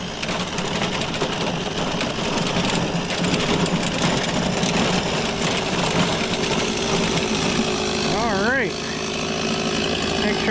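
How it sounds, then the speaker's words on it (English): A STIHL 026 chainsaw runs after a rebuild, a loud steady buzzing drone close by that continues throughout, with a brief pitch-wavering rev near the end and someone talking over it. "Oh, the saw's still running."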